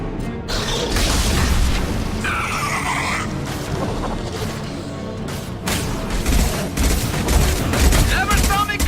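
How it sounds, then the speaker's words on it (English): High-impact gunshots in Mass Effect 2, dense bursts of gunfire and booming blasts in a continuous loud firefight with a character's voice calling out over the shots. "Hostiles up ahead! Firing a high-impact shot."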